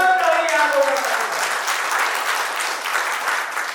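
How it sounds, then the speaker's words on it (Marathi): An audience at a 1989-batch school reunion gathering applauds loudly and steadily, a dense wash of many hands clapping that carries on for several seconds and fades slightly toward the end. "तर एकदा जोरदार टाळी या लोकांसाठी"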